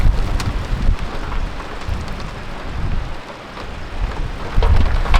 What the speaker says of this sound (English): I wonder if that rain's gonna be a problem